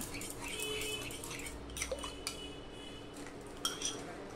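A spoon stirring yogurt into poha in a bowl, soft close scraping with a few light clinks of metal on the dish over faint background hum, no voices.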